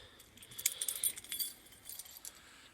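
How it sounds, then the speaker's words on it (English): Sets of keys for a Rockwood 2280BHESP tent trailer jangle close up in bursts of bright metallic clinks, loudest in the middle, with no voices. "You have 2 sets of keys."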